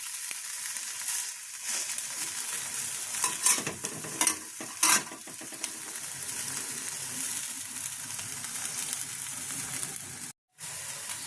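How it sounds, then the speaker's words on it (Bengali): Rice bun dosa frying slowly in a covered pan over a low flame, giving a steady soft sizzle throughout with a few brighter crackling bursts and a brief drop-out near the end. "2 পিঠই এরকম লাল লাল করে ভেজে নিতে হবে।"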